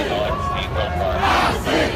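A large crowd at a Kid Rock protest chants and shouts together in a steady, continuous roar, with voices blending into a dense wall of noise.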